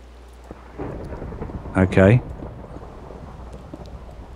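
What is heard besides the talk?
rain and thunder in Minecraft video game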